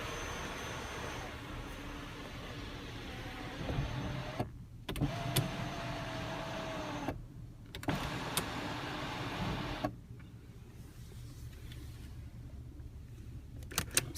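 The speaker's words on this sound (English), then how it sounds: "you have the one-touch open and close and tilt sunroof" A 2016 Audi A7 Prestige S Line power sunroof runs through opening, closing and tilting, giving a steady motor whine with short clicks and stops between movements, heard close inside the cabin.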